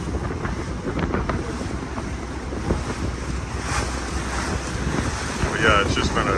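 A Bangkok water taxi with a big long-tail motor mounted on a stick drones steadily beneath strong wind buffeting and splashing water, a continuous rough roar with no break.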